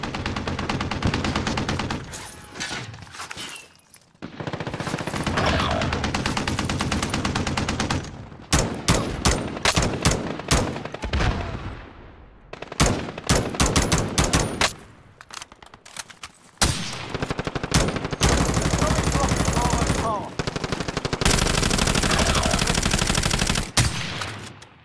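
Rapid automatic gunfire bursts and single shots in the Call of Duty Warzone video game, loud and close, arriving in dense volleys separated by short gaps, with no talking.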